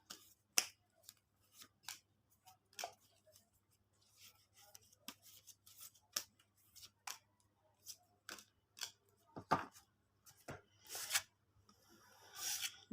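Tarot cards are shuffled by hand, giving quiet, irregular flicks and riffling snaps, close and soft, with no voice over them.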